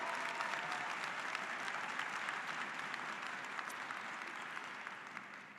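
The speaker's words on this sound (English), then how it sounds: "Let's give them a big round of applause." Steady applause from an audience at an engineering graduate recognition ceremony, dense continuous clapping heard from a distance that slowly fades toward the end.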